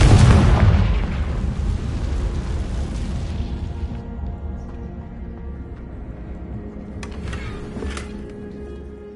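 A Confringo spell blast in the Hogwarts Legacy video game erupts as a loud, booming explosion at the start, then fades into a long rumbling tail with a couple of faint crackles later on.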